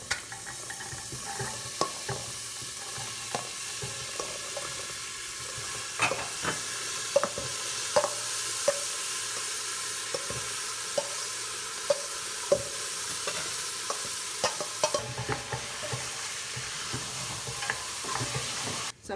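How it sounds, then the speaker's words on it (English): Chickpeas being stirred into a sizzling curry in a pan for Trinidad curry channa, with steady frying hiss and repeated soft scrapes and knocks of the spoon, fairly close, no talk. "So I'm just mixing the chana here so that the curry gets incorporated with it."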